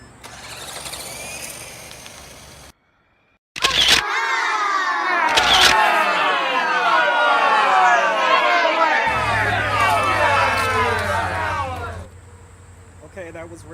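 RC cars race with a high, whining electric motor buzz that rises and falls in sweeping pitches, loud and close, after a brief silence and a few sharp knocks, with chatter and talk around them.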